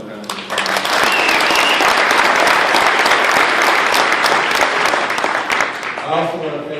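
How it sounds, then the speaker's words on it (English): An audience at a sports hall of fame induction dinner in Sacramento breaks into loud applause that swells quickly and holds steady before tapering off, with a voice briefly heard near the end. "Let's give him another round of applause."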